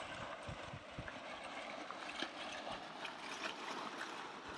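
Water pumped into a holding tank pours down the wooden trough of a homestead village grist mill, a soft continuous trickle and splash with faint knocks from the mill mechanism, heard alone.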